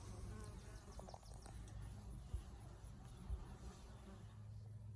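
A sizable honeybee swarm clustered on a tree outdoors, heard as a faint continuous buzzing hum throughout with a few soft thumps; quiet and somewhat distant, with no talk.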